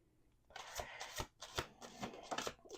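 A deck of tarot cards is shuffled by hand in quick, crisp riffling bursts, five or six short flurries close up and quiet, with no talk.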